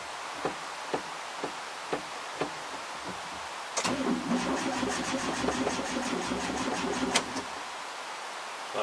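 A VW T25 engine cranks slowly on a weak battery with a few weak clicks, then turns over sluggishly in a labored, rhythmic churn before stopping.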